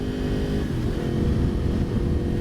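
A 2016 Yamaha R1 with an aftermarket Yoshimura or SC Project exhaust rumbles steadily, then swells into a louder rev partway through. The tone is a dense, gritty drone heard close and alone.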